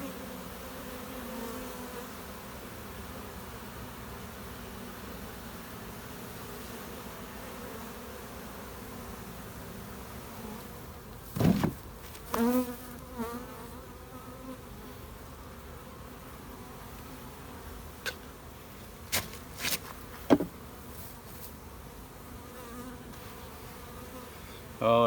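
Honey bees hum around an open beehive frame holding pollen and honey, a soft continuous buzz with a few closer bees passing by loudly.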